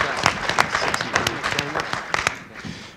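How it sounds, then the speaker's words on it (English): An audience applauds candidates for mayor and city council at a local candidate forum in Bloomfield, a steady burst of clapping lasting about three seconds and tapering off at the end. "let's give all of these fine folks a round of applause for stepping up to run for political office this year."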